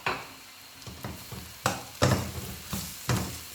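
Spices are stirred into reddened onions frying over high heat in a pan, giving a soft sizzle under a series of scraping spoon strokes and clinks, with no talking.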